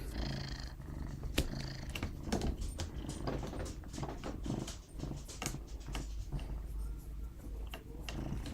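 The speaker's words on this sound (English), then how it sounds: "He's purring into the mic for you." A cat purrs steadily and close up, a continuous low rumbling throughout with a few soft clicks and rustles.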